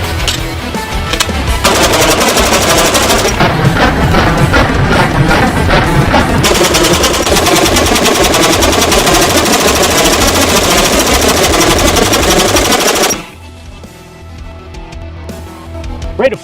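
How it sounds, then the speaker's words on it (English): A semi-automatic gun fires loudly in long, rapid, rattling bursts that go on almost without a break for about thirteen seconds, then stop abruptly, leaving quieter background noise. "Rate of fire is adjustable by the gun whenever it decides to."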